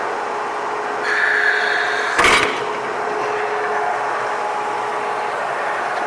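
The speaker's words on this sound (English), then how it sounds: "See the ribbon operating in there, as well as both the screws, everything smooth, quiet." A Hobart BL-20 twin ribbon blender runs with its ribbon and both screws turning, making a steady, even mechanical hum and rubbing drone, broken by one short loud scraping burst partway through.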